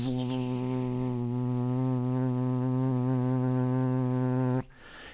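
A human voice imitates the buzz of vocal folds with a steady, loud, nasal drone held for about four and a half seconds before cutting off abruptly.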